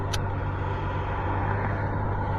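A Ford Ranger pickup truck drives past nearby, a steady broadband engine and tire rumble that holds at an even loudness throughout, with a brief high hiss near the start.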